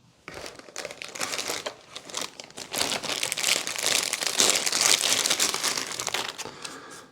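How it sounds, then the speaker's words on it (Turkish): The cardboard retail box of a Braun Series 5 MGK 5410 shaver is opened up close, giving a steady, busy stretch of crinkling and scraping packaging that grows louder midway and then tapers off. "Kutumuzu şurasından açıyorum."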